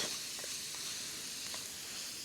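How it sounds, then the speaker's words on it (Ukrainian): Onions frying in bacon fat over a campsite stove, a steady close sizzle and hiss with faint crackles throughout, no speech. "Зараз це все цибульку піджарюємо"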